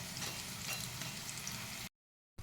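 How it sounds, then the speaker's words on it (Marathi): Crispy okra bhaji sizzling in hot oil as the fried pieces are lifted out, a steady soft bubbling hiss, close and quiet, cutting off abruptly into silence. "आपल्या फ्राय क्रिस्पी भेंड्या तयार झालेल्या आहेत तर आता मी ह्या काढत आहे"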